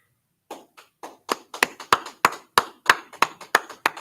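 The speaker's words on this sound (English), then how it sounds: "All right, clap it up." An audience at a religious group meeting claps in scattered, uneven bursts, starting sparse and building into a steady run of sharp, close hand claps.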